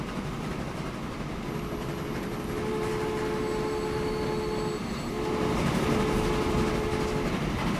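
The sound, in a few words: train on a railway in the video game Transport Fever 2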